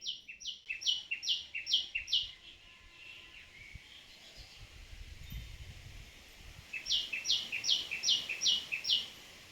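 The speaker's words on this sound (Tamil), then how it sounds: "வெறும் பறவைங்க சத்தமும் மரம் இலையெல்லாம் அசையிற சத்தம் மட்டும் கேட்டுட்டு இருந்துச்சு" Bright bursts of bird chirping open and close the scene, with a soft rustle of leaves and low outdoor ambience filling the quieter middle.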